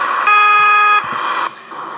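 A muffled truck air horn from American Truck Simulator, heard on a Peterbilt, blares steadily for about a second with a dull, underwater-like tone, then trails into a softer muted honk.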